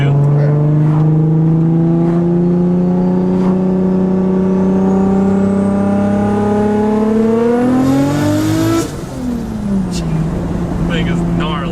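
A Nissan 240SX with an RB25 engine and big turbo accelerates hard from inside the car, its loud engine note climbing steadily through the gears before a shift, with talk faintly underneath.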